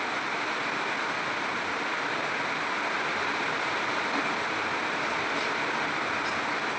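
Rain drums on a tin roof outside a village kitchen in a steady, dense, even roar that carries unbroken throughout.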